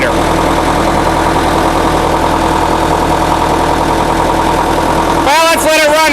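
An International Harvester UD9 diesel generator set runs steadily at half load, a loud, close, even engine drone with a rhythmic mechanical chug; near the end a person starts talking over it.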